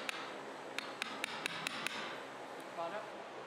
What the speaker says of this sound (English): I chisel a small flat spot for the washer to sit in